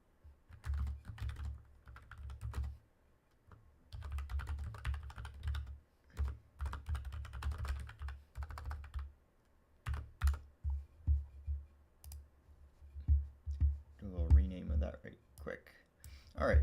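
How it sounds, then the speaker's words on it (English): Typing on a Logitech MX Master mechanical keyboard, with steady bursts of key clicks and clacks that pause and resume, close and fairly loud, and a voice speaking briefly at points. "if you can hear the keyboard, that is the Logitech MX Master mechanical keyboard"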